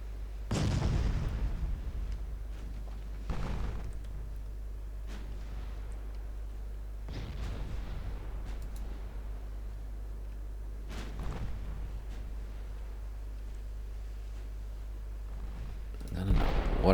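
Heavy warship main guns fire in a naval battle in Ultimate Admiral Dreadnoughts, a set of deep booms spaced several seconds apart with rumbling decay over a constant low engine drone, plus a closer blast at the end.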